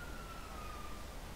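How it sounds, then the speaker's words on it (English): A police siren in a video game wails faintly at a distance under a steady, dense background noise, as a thin rising-and-falling tone with no talking. "I thought I heard some police siren."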